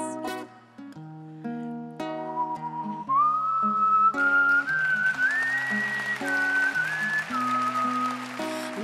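Solo whistling on a singing audition stage rises into a sustained melodic line over piano chords, clear and fairly loud throughout.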